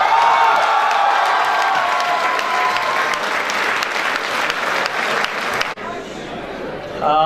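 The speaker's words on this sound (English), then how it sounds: "V.H. Oza, the head of Mechanical Department, a huge round of applause for." Audience at a college ASME event applauds loudly with dense, steady clapping and some cheering and whoops, then the applause cuts off and fades near the end.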